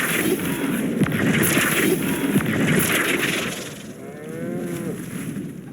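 Cows moo a couple of times amid busy background noise and a few sharp thuds in the video game Hogwarts Legacy, at moderate volume.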